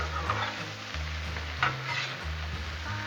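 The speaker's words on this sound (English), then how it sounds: "put a little bit of oil on these fries and give them a good stir" Fries stir and fry in oil on a Blackstone griddle, a steady close sizzle with scraping stirs and a low hum running underneath.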